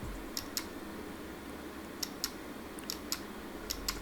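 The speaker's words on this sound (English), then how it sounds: "They're literally mouse click buttons." Quiet, sharp clicks of small mouse-click buttons on a gaming controller pressed irregularly, alone against a low background hum.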